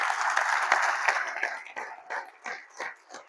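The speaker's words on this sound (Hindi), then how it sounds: "एक बार जोरदार तालियां होनी चाहिए" A group of trainees claps in a hotel training session, a burst of applause that thins and fades into a few scattered, separate claps toward the end.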